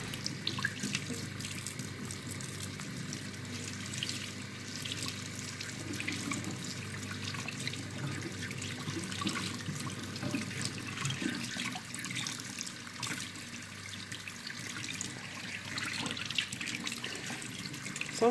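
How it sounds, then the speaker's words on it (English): Running warm tap water pours steadily into a sink, a continuous splashing hiss with slight shifts as a robot vacuum-mop part is rinsed under the stream. "we just go through and pop it underneath the water. Give it a bit of a rinse and a clean."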